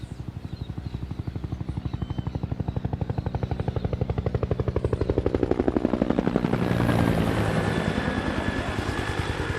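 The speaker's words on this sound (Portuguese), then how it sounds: "Os helicópteros em cima da periferia, né?" Helicopters fly low over the outskirts of Taboão da Serra, São Paulo, their rotors chopping in a fast steady rhythm that swells louder and nearer toward the end, with no voices.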